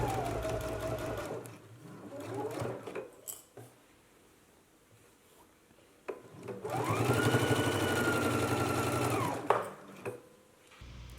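A sewing machine stitches a waistband onto a skirt, running in two close, steady bursts of whirring motor and needle clatter with a quiet pause between them.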